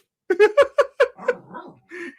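A dog lets out a quick series of sharp, close barks, about five in a row, then trails off into a softer whining sound.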